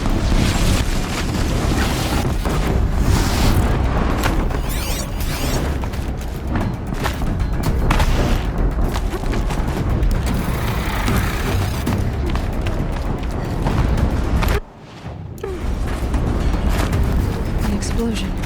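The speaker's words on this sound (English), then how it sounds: "An explosion." An explosion in Horizon Zero Dawn gives a loud, sustained rumbling roar that fills most of the stretch before a brief dip, with game voices mixed in.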